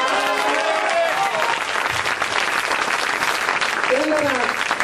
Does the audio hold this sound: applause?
yes